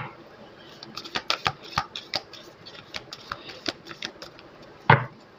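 Tarot cards being shuffled by hand in a quiet room, a run of crisp riffling clicks and soft slaps across the span, ending in one louder snap as the deck is squared.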